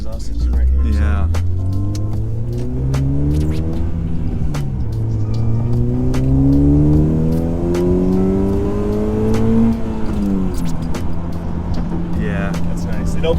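A car fitted with a 3-inch single TSX cat-back exhaust revs steadily and loudly up toward 4,000–5,000 RPM, its drone climbing and falling in long sweeps before settling, close and continuous for over ten seconds.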